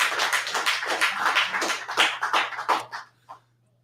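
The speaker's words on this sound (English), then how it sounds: "You clap it up for him." An audience at a scripture study session claps for a young brother, a dense burst of hand claps that thins to a few scattered claps and stops after about three seconds.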